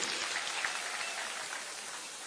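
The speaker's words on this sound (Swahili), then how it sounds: "mpigeni makofi" A large crowd at an International Women's Day rally in Moi Stadium, Embu, applauds in a dense, steady wash of clapping that sounds distant and fairly soft and holds without a break.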